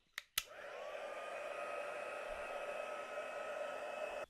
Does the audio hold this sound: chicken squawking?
no